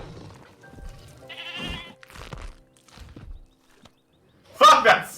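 Video game Jurassic World Evolution 2: a goat bleats loudly near the end, following scattered thumps and quieter game sounds, while a person talks at times.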